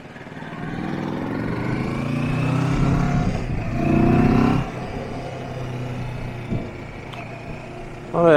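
A Kawasaki Versys 650 motorcycle is ridden along at a steady pace, its engine droning constantly beneath heavy wind rush, with a slight swell in the middle and a brief rise at the very end.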